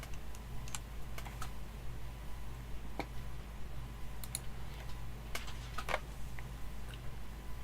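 Typing on a computer keyboard during a GeoGuessr language-learning stream: soft, irregular clusters of key clicks at close range over a steady low hum, with no talking.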